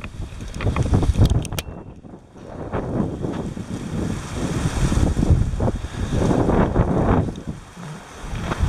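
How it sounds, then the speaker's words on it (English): Wind blowing hard at a woodland campsite among pines in January, gusting and buffeting the microphone in loud, rumbling surges that rise and fall throughout. "I don't think you can hear me on this wind."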